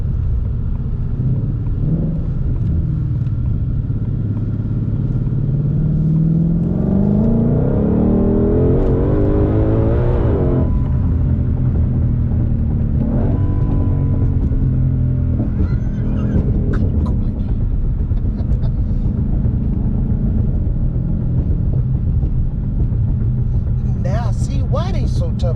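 A 2020 Ford Mustang Shelby GT500 V8 engine revs up repeatedly, rising to a high-pitched roar, then drops back to a deep rumbling idle, loud and close, with voices talking over it.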